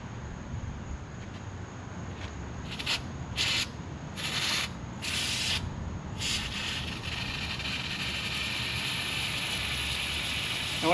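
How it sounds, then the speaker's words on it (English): Brake cleaner sprays from a nearly empty aerosol can onto a 1964 Correct Craft American Skier boat, heard as several short close hissing bursts in a row, then one longer spray, over steady background noise with no talking. "We'll go ahead and hit it with some more brake clean"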